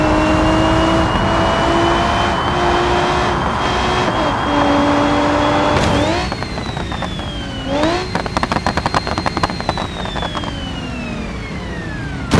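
Nissan 350Z engine in a racing video game, a loud steady drone that climbs and shifts pitch in several stepped gear changes, with crackling rattles in the later part.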